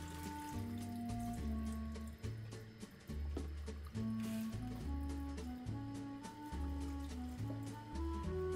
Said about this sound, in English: I'm going to go under the sink and just wash it off under running water.